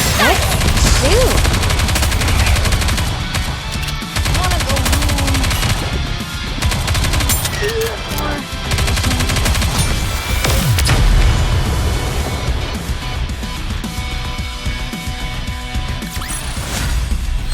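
Gunfire and explosive booms in the mobile game Goddess of Victory: Nikke, loud and continuous under dense game music and effects, with bursts layered throughout and a voice calling out briefly.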